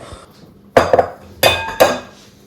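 A big bowl clatters on a kitchen surface in three sharp, close knocks with ringing clinks, spaced about half a second apart.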